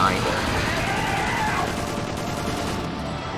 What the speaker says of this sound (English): I pause, and I shoot out the remaining bullets to reload at 29